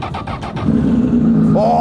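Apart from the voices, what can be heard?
Honda Fireblade motorcycle engine starting, Akrapovic titanium slip-on exhaust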